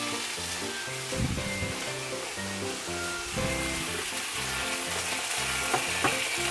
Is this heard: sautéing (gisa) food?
yes